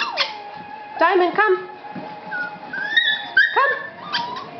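Several puppies whimper and yip in high, wavering cries, overlapping and close by, while a person speaks at the same time.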